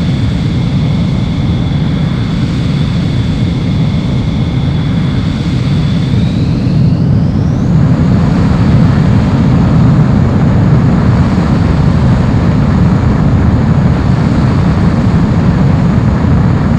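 A fighter jet in Ace Combat 04 roars steadily on takeoff, a loud continuous engine rumble with a high whine that rises in pitch partway through as the aircraft accelerates.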